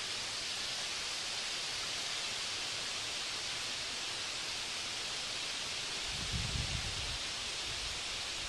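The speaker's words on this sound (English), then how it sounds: "it's kind of windy out here" Steady, loud wind roars without a break across an open field, with a brief low buffeting gust near the end.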